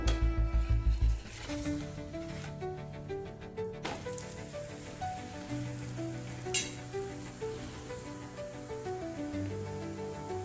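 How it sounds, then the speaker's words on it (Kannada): A radish roti cooks in oil on a pan, crackling with a soft, steady sizzle beneath prominent background music. "ಈಗ 2 ಕಡೆ ಎಣ್ಣೆ ಹಾಕ್ಕೊಂಡು ಬೇಯಿಸ್ಕೊಳ್ಬೇಕು"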